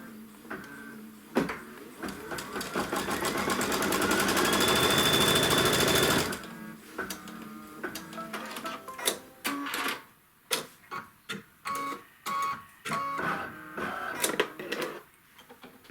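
A Kimberbell embroidery machine stitches a trim line on a quilt block, a loud continuous mechanical whir for several seconds that stops abruptly, followed by a series of short clicks and bursts of handling noise.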